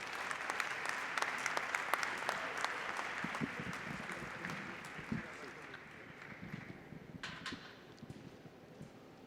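Applause from a round-table audience at a conference, welcoming a speaker: moderately loud, sustained clapping that gradually thins and fades toward the end.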